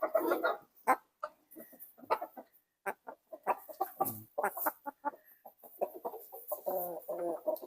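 Backyard hens and a rooster in a small home-scale flock cluck close by in rapid, uneven bursts, with short pauses between some calls.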